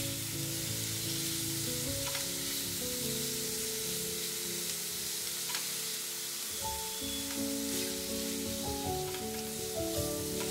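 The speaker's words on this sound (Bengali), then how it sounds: "তেলটা হালকা গরম হলে দিয়ে দেবো চিংড়ি মাছগুলো। চিংড়ি মাছটা ভালো করে ভেজে নেব।" Shrimp frying in hot oil for shrimp fried rice, a steady dense sizzle running throughout with a low hum and faint tonal background sound, close and fairly loud, no talking.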